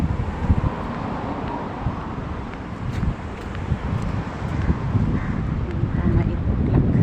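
Outdoor wind buffets the microphone with a steady rumbling roar and gusty bursts, with faint traffic-like noise in the background, growing slightly louder toward the end.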